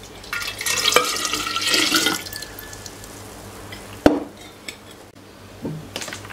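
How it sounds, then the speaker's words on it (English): Concentrated tea for kombucha pours into a jar with a watery splashing stream at first, then trickles and drips amid a few glassy clinks and knocks. "now safely I can pour my concentrated tea"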